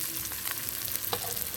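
Potatoes going into oil with spice masala that has been fried down until the oil separates, sizzling steadily with soft stirring scrapes for a banana curry dish.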